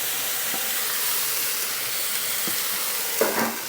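Flatbread steams in a lidded pan with the vent open, giving a steady soft hiss and faint sizzle throughout, with a couple of small clicks or taps near the end.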